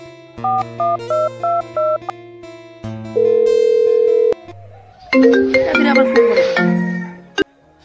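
A phone ringing tone for an outgoing call: a short electronic melody of repeated two-note beeps, then a long steady tone, then a brief busier musical burst, all loud and close with no talk.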